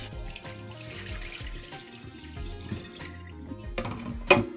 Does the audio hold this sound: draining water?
yes